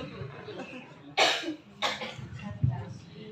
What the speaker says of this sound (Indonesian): Itu kayaknya masih batuk dulu.